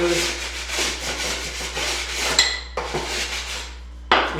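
A utility knife scrapes along a freshly cut drywall edge, cleaning it with repeated close, dry, gritty strokes in steady rhythm, broken by a couple of brief pauses, with no one talking.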